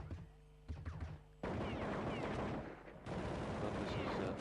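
Sustained gunfire in Counter-Strike 1.6 during a fnatic vs EG match, dense rapid bursts filling most of the clip, loud and continuous, with a commentator talking over it.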